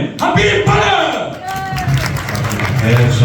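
Audience applause at a fundraising stage event, a dense wash of clapping and crowd noise running throughout with some shouts and voices mixed in.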